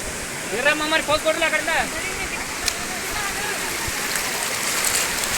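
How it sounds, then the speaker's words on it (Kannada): Chikhale Falls near Belagavi gives off a steady, broad rush of falling water that runs all the way through. Someone talks over it early on, then the roar carries on alone. "ನೋಡಿ ಇಲ್ಲಿ ಇದ ನೀರಾಗ ಹೋಗಿ ತಳಗೆ ಬರತ್ತೆ ಫ್ರೆಂಡ್ಸ್ ಚಿಕ್ಲೆ ಫಾಲ್ಸ್"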